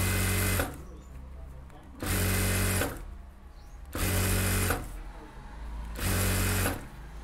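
A sewing machine stitches a puff sleeve in four short, loud, evenly spaced bursts about two seconds apart, close by, with a quieter background between runs.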